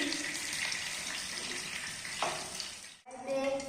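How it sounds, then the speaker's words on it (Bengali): Paneer cubes frying in a pan for a tomato paneer dish, a steady dense sizzle that holds loud and close for about three seconds, briefly drops out, then resumes with a crackling spatter. "পনিরটা ভেজে নিলাম এই দেখুন পনির ভাজা হয়ে গেছে"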